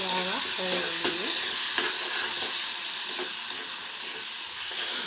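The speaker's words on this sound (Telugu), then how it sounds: "ఇప్పుడు టమాటా వేగుంటుందండి, చూద్దాము." Tomatoes frying in a pan for a Telugu fish curry make a soft, close sizzle, with several scraping stirs of a spoon against the pan over the sizzling.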